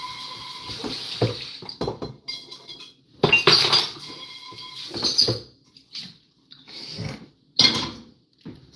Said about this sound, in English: let me just rinse this pan.